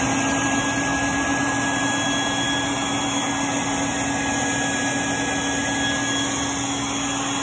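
A WIN hair clipper's brush motor runs steadily and close, a loud, even electric whine and buzz that holds constant throughout without pauses.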